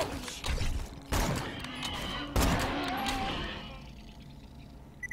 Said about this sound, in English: What else is shooting at me right now?